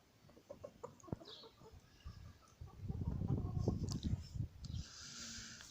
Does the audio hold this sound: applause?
no